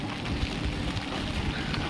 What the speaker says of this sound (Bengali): বৃষ্টির মধ্যে বেরিয়ে পড়েছি।